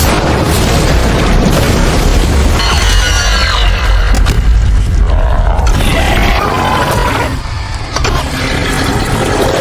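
Loud, dense film-recap soundtrack with repeated booming bursts and gunfire-like blasts over a rumbling low bed, continuous and busy throughout, with no clear speech.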